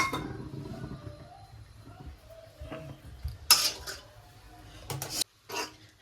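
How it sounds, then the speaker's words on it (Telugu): Egg noodles stirred over a high flame in a pan, with a utensil scraping and knocking against the metal in irregular strokes, including a few louder clanks near the end. "హై ఫ్లేమ్లో పెట్టుకొని కలుపుకోవాలి"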